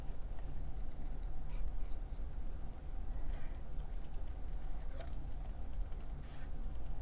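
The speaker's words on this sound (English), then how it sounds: "We can fussy cut for a few images." Scissors make faint, irregular snips while fussy cutting around stamped paper images, half-buried in a steady background hiss with no talking.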